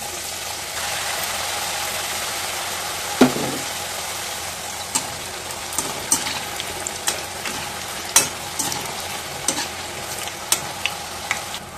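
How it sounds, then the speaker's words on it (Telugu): Pieces of dough made from sorghum, rice, gram and wheat flour fry in hot oil with a dense, steady sizzle close by, broken by scattered small pops and clicks throughout. "తగినంత ఆయిల్ అయితే పెట్టుకుని ఇలా అయితే వేసేసుకోండి పీస్లన్నీ కూడా"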